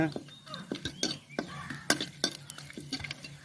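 Cinnamon and cloves dropped into hot oil in a pan, light sizzling under irregular metallic clinks and stirring scrapes from a utensil, close and fairly quiet.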